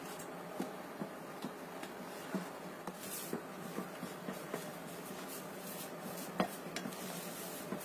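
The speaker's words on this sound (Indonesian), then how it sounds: "Kita aduk dengan spatula." Cookie dough for Lebaran cookies is stirred with a spatula in a bowl, making a steady run of soft scrapes and light clicking taps at close range, with no voices.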